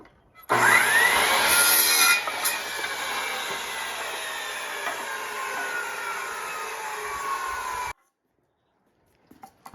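Power saw cutting wood boards to length for a brooder box, a loud close whine that bites in sharply, then settles into a steady cut for several seconds before stopping abruptly.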